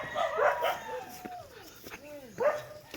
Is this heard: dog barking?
yes